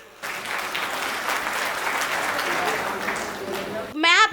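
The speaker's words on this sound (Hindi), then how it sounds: "आप लोग आनंद ले रहे हो तो जरा पीछे तक तालियां लहरा दो अपनी" Audience applause during a Hindi comedy poetry recitation, a dense crowd of clapping that swells steadily before a voice cuts in at the end.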